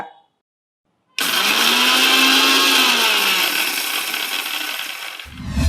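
A mixer grinder whirs loudly, grinding dried red chillies coarsely for bitter gourd onion masala, a steady high-pitched motor roar with rattling that cuts in abruptly after silence and winds down near the end.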